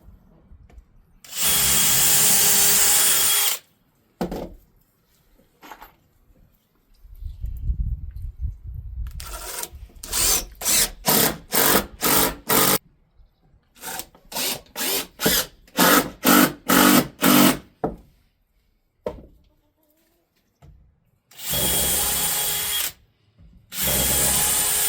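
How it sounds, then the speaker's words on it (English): A power drill pre-drills holes in wood for a 4x4 lumber drying bunk, with loud sustained whirs and a run of short trigger bursts separated by quiet pauses, close by and without talk. "I'm going to pre-drill some holes here and here"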